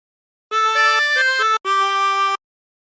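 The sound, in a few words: A melody played on a 24-hole tremolo harmonica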